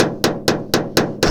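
A PDR hammer taps out a dent on a Chevy 4x4 2500HD truck panel, six sharp metallic knocks in an even, quick rhythm, close and clear with no talk.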